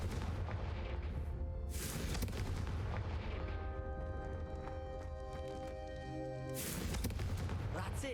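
Fire-spell blasts from the Hogwarts Legacy video game burst out in two loud, roaring whooshes over steady in-game music, with a short spoken line in between.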